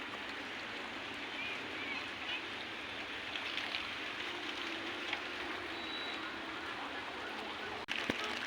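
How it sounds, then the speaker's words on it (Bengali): Heavy rain falls at night on a warm-season evening, making a steady, dense hiss with no break for most of its length before a brief sharp disturbance near the end. "বৃষ্টি নামছে অনেক"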